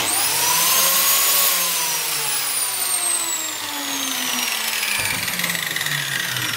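An Einhell TC-BJ 900 biscuit joiner runs loud and steady, its motor whine sliding as it spins down, with a brief dip and restart partway through.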